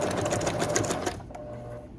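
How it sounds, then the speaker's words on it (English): A sewing machine runs a straight stitch while making journal tip-ins, a fast close rattling whir for about a second before stopping, leaving a faint hum. "I have my sewing machine on zigzag, and then I'm just going to switch it and leave it where it's at in the settings and switch it to straight"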